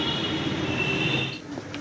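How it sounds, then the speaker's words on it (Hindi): A metro train at a metro station, a steady mid-level rolling hum with a faint high-pitched wheel squeal, easing slightly toward the end, with no talking. "और अब हम आ चुके हैं मेट्रो स्टेशन और जा रहे हैं घर पे"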